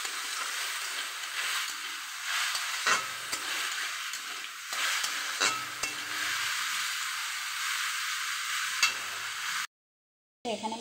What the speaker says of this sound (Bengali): নিয়েছি শাকের মধ্যে আমি দিয়ে দিব কালোজিরা ফোড়ন। এগুলো দেখি সুন্দর করে ভাজা হচ্ছে।